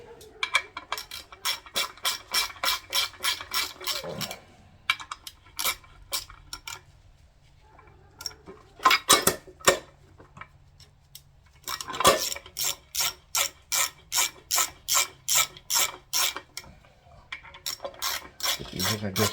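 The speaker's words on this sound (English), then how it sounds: "Got my little micro ratchet here." A small micro ratchet clicks in rapid bursts while bolts are tightened during an LS 5.3 engine build, several runs of close, crisp ratcheting separated by short pauses and a few clunks.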